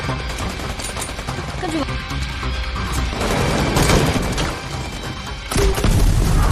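A film gunfight in which terrorist forces chase their targets and trade fire, with dense bursts of shots and crashes that intensify toward the end, all under a narrator's voice.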